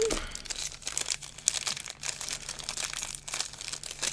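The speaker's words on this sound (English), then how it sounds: "I'm just sorry about the rustling." Crinkly plastic packaging from new stationery, including ink pens with cartridges, rustles and crumples continuously up close, loud and busy, with no pauses.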